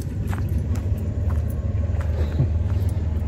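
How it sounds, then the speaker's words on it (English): A car on a remote dirt road gives a low rumbling drone, fairly loud and steady with slight fluctuations, no voices. "I haven't seen a car come down this road in a long time, but I thought I heard one coming"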